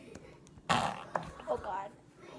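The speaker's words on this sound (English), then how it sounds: "That's a real fart." A real fart pushed out while playing with glitter slime, a short, loud burst followed by a few smaller sputtering squeaks, with a voice nearby.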